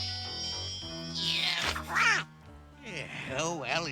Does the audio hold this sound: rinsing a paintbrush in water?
no